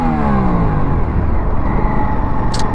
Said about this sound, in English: Let me see the rev range.